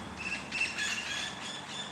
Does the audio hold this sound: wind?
no